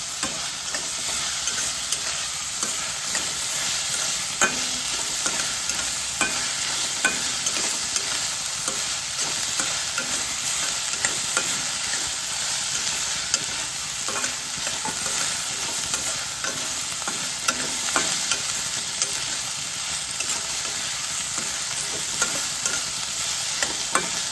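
Onions with ginger garlic paste fry in a pan for a gutthi bendakaya curry, a continuous loud sizzle broken by frequent scraping stirs of a spoon, with no voices.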